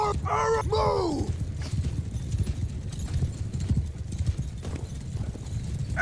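Horses gallop in a Mount and Blade II: Bannerlord battle, a dense continuous clatter of hooves with a couple of loud whinnies at the start, under shouted voices.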